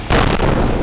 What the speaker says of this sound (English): Nothing can truly prepare you for what it feels like to stand next to a tank when it sends off one of these rounds.